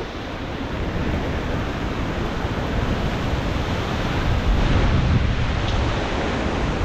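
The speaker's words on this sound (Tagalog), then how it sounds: "Ang lakas ng bugso ng hangin." Powerful, roaring typhoon wind blasts continuously, a dense rushing noise buffeting the microphone with a slight swell near the end.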